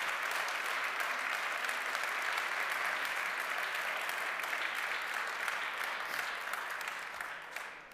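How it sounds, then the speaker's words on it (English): Sustained audience applause at a cryptocurrency platform relaunch event honoring its developers, a dense steady wash of many clapping hands that holds throughout and tapers slightly toward the end. "I would like a round of applause for all the developers that do all that effort."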